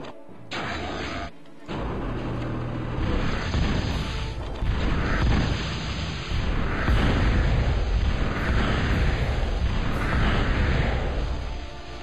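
Pulverizer defense towers firing and blowing up units in the Total Annihilation real-time strategy game: a loud, continuous roar of booms and blasts over about twelve seconds, with repeated bursts layered over a heavy rumble.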